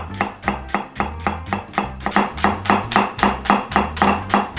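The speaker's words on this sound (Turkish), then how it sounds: "Bunları da böyle küçük küçük ince ince doğruyoruz" A knife finely chops celery stalks on a board in quick, even, rhythmic strokes, each cut crisp and close, with a soft steady beat underneath.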